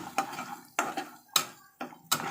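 Ground coriander, cumin and fennel masala sautéing in a pan for Shegaon kachori, with five brisk stirring scrapes of a spoon on metal over a faint sizzle, close up, no talking.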